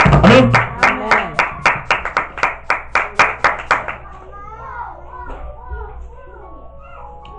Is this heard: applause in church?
yes